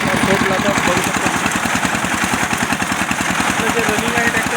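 A small tractor pulling a rotavator through farm soil, its engine running fast in second gear with a steady throbbing chug, loud and close throughout.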